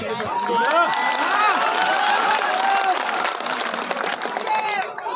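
A large crowd cheers at a political nomination rally in Bokaro held in 45-degree heat, a dense and loud roar of many voices with whistles and shouts rising over it, sustained for about five seconds.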